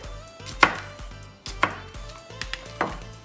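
A knife chops a jalapeño on a cutting board in a home kitchen: a close run of four or five sharp, hollow knocks with short gaps between them, and no voices.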